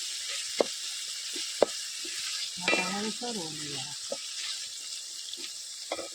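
Tomatoes sizzle in a pan with roasted garlic paste, a soft steady frying hiss broken by a few sharp utensil clicks and a brief voice-like murmur in the middle.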